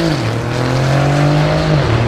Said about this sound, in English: Next pair rocking down the drag strip.